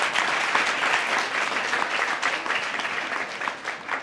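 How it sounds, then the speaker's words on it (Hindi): An audience of volunteers at a campaign event claps for themselves, a dense, steady burst of applause filling the room for about four seconds with no talk over it. "आप अपने लिए एक ताली बजाओ।"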